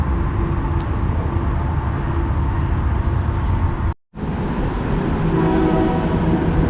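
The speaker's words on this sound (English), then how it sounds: "that train horn I'm hearing is across the river on the Illinois side" A train horn sounds from far off across the river over a steady low rumble, with a brief dropout partway through before the rumble resumes.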